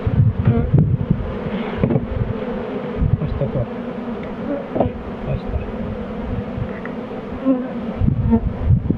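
Honeybees buzz steadily around a hive, a dense humming swarm heard close by, with occasional soft knocks and handling sounds.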